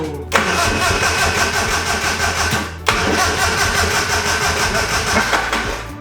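An engine cranks and catches twice in quick succession, each start followed by a loud, steady running roar up close.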